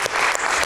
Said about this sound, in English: A round of applause from the audience.